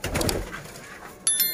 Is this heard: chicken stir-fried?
no